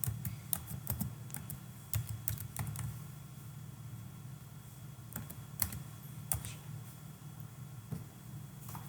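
Someone types on a computer keyboard, sharp quick key clicks in short bursts separated by pauses, fairly quiet over a low steady hum.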